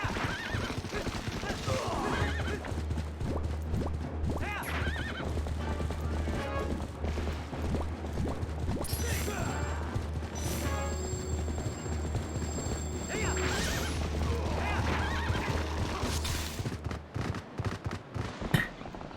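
A horse in the video game Zelda Twilight Princess neighs loudly over galloping hoof clip-clops, with game music and effects. A second whinny follows later, and a voice talks intermittently in the background.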